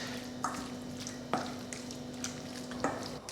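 Beef in a cornflour marinade being stirred in a bowl, soft wet squishing with a few distinct clicks of the utensil against the bowl, quiet and close, over a steady faint hum.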